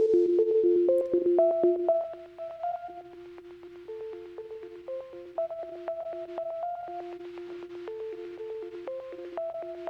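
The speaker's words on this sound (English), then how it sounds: "a really nice lo-fi sound now that we've got the crinkle and the noise all in the mix" A lo-fi synth melody of steady pulsing notes, coated in a gritty crinkle and a soft hiss of white noise, playing continuously at moderate volume.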